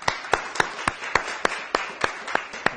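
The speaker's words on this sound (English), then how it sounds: "who I think we should give a round of applause to." A church congregation at a Sunday morning worship service gives a round of sharp, evenly spaced claps, sparse and fairly close, with no voices over them.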